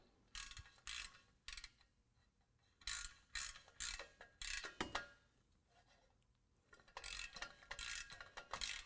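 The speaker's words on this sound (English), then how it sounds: "we're going to use a 5/16 Allen to tighten that up" A 5/16 Allen wrench tightens an MBRP Pro Series exhaust clamp on a 2019 Dodge Ram 1500, giving close, bursty ratcheting clicks in short repeated runs with brief quiet pauses between strokes.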